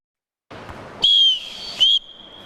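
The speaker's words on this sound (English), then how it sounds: "So he starts with a whistle." A referee's sports whistle starts a small-sided team drill, sounding two loud, shrill, close blasts, the first longer, then a steadier fainter tone, all over light background room noise.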